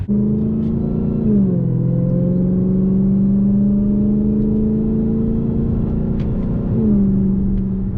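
A car engine idles with a steady, continuous whine and low rumble before a Legmaker cold air intake is fitted, its pitch dipping slightly twice as revs shift, close and unbroken throughout.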